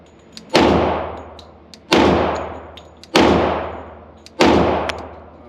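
A Glock 40 Gen 4 MOS pistol fires four evenly spaced loud shots at steel targets, each a sharp crack with a ringing metallic clang that decays over about a second.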